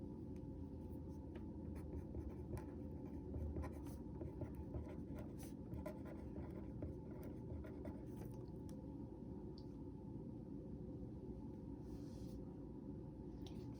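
Pen or pencil scratches across an annotation sheet on a desk in a quiet classroom, the soft continuous strokes faint and close, with no talking.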